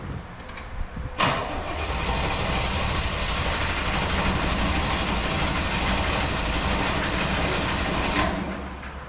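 A 1973 Corvette engine cranks steadily for several seconds with a uniform whirring drone and no distinct compression beats, sounding as if it has no compression, starting abruptly and cutting off near the end.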